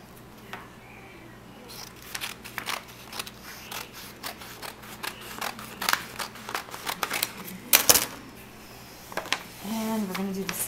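Scissors snip through a paper book cover in a series of sharp, irregular cuts and rustles, close up, with a voice speaking briefly near the end.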